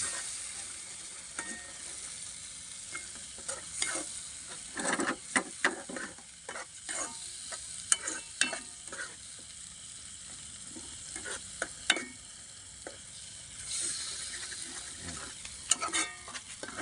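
Fermented jackfruit with sardines stirred and frying in a pan, a steady sizzle under repeated scraping and clattering stirs with no talk.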